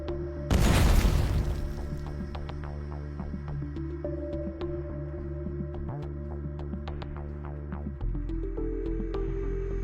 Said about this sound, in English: the drone flew directly into the building and destroyed the control center with pinpoint accuracy.